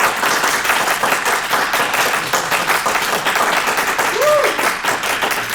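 Loud, sustained applause from a comic-con panel crowd, with a brief vocal whoop or cheer rising above the clapping near the end.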